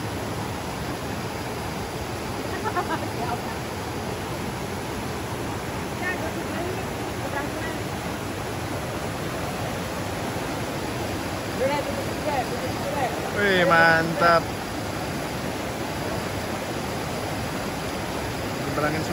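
A clear river flows in a steady, broadband rush while people wade across it outdoors on a hiking trail, close and continuous, with brief voices over the water.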